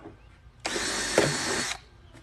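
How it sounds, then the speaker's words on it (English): A power drill bores a hole near the top of a plastic self-watering container, a single close, loud whirring burst lasting about a second with no voices. "So I'm drilling about 4 holes at the very top."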